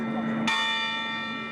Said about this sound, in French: Aujourd'hui, on va sonner les cloches plus longtemps que d'habitude